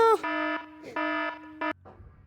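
A synthetic alarm sound effect triggered from a streamer's OBS button: a harmonic buzzer tone repeating in three sustained bursts, with soft background noise between and no talk.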